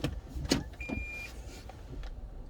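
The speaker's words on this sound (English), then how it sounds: "Okay, that's a big truck." A big truck rumbles past on a street, a steady low engine roar and road noise close by with a brief whine partway through, no talking.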